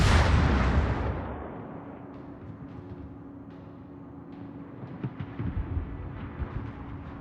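A heavy naval shell impact scoring a citadel hit in World of Warships opens the clip with a loud booming blast, then fades into a rumbling, crackling low roar with scattered distant thuds and pops.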